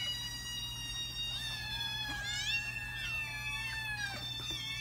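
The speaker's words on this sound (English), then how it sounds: "this is what a bunch of hungry kittens sound like." Several kittens meowing insistently and overlapping, high rising and falling cries, close by over a low steady hum.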